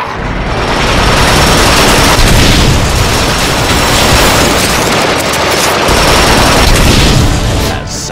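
Turrets fire in the Transformers: Rise of the Dark Spark video game, producing a dense, loud, continuous barrage of rapid shots and booms that lasts throughout without pause.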